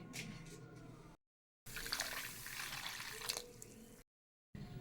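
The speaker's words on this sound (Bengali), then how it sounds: "সুজিটাকে আমি একটু ধুয়ে নেব প্রথমে" Semolina being rinsed by hand in a bowl of water, with swishing, splashing bursts broken by two brief silent gaps, fairly close and moderately loud.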